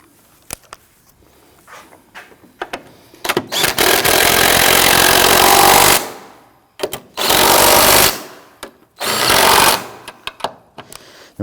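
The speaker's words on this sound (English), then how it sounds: "I'm gonna go ahead and snug down these 3 nuts on the top" A power tool snugs down the three top strut mount nuts on a 2001-2009 Volvo S60, rattling in three loud hammering bursts of a few seconds each, separated by quiet clicks and handling noise.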